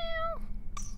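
A cat meows in the Harry Potter and the Philosopher's Stone video game, one clear, close, drawn-out meow that bends downward, followed by a brief second chirp.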